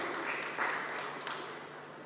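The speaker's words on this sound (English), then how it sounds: "clearly the audience are not considering that 5 points worthy of applause. Oh, now they do." Audience applause at a Goa history quiz contest, a steady broadband clapping wash for about two seconds with a small swell near the middle, moderately loud and without talk.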